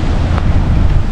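Wind roars steadily across an open campsite in Bangui, Ilocos Norte, buffeting the microphone with a continuous low rumble and no voices.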